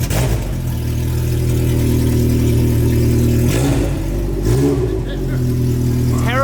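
A Toyota AE86 with a failed exhaust drives past loud and close, its mid-pitched engine droning steadily with a couple of brief revving surges and some voices over it.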